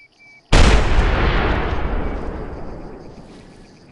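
A single loud .300 rifle shot fired at close range at a mule deer in the hunting game theHunter Classic, a sharp crack followed by a long rolling echo that fades over several seconds.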